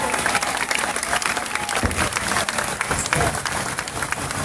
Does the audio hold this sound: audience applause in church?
yes